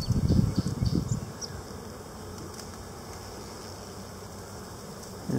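Honey bees buzz inside a hive as they build comb, a dense, steady hum that swells loudest in the opening second before settling into an even drone.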